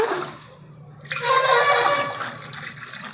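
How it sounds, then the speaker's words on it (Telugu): A brief rush of water from a can, then a louder, sustained gushing pour splashing into a cooking pan nearby, fading off at the end. "ఇదిగో మూడు డబ్బాలు నీళ్ళు పోసానండి"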